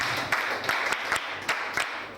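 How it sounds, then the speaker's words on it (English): Schoolchildren at Kpite State School in Ogoni clap for themselves, a short burst of quick, uneven hand claps with sharp individual slaps, fairly close and moderately loud. "Clap for yourself"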